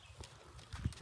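A few faint clip-clop hoof steps from a big, powerful stallion bred for the horseback game ulak, heard as soft irregular thuds with one firmer strike near the end.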